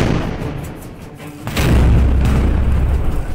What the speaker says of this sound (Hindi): जबलपुर के LPR रेंज में चल रही ताकतवर 155 mm सारंग गन की टेस्टिंग